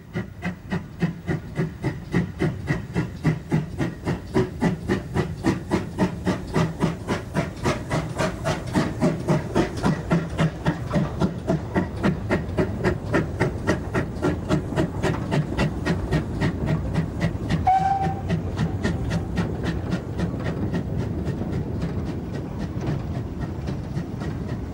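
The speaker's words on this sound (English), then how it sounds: "Another goods train is seen behind a predominantly passenger type, the 1600 pannier tank, also in BR livery." A GWR 1600 class pannier tank steam locomotive in BR livery hauls a goods train, its steady rapid exhaust beats and rolling wagon clatter loud and continuous, with a brief whistle-like note near the end.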